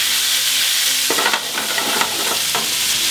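Merguez sausages and beef frying in a pan, a steady loud sizzle with a few bursts of scraping and stirring, no talk.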